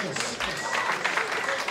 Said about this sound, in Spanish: Fuerte los aplausos, que se escuchen con ganas